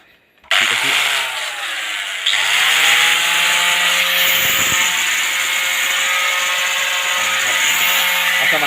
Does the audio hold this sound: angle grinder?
yes